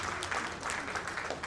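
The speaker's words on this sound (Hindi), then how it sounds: "एक बार जोरदार तालियां विशेष के रूप में आप सब लोग" Audience applause at an album launch event, a steady wash of clapping from a crowd lasting the whole moment at moderate volume, with no voices standing out.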